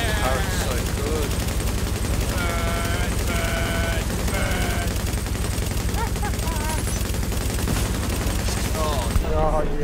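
Turret gunfire in the video game Tom Clancy's The Division, a dense, continuous fusillade of rapid shots under players talking over voice chat.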